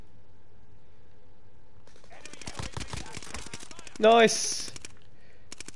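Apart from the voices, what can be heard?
gunfire in video game Call of Duty Warzone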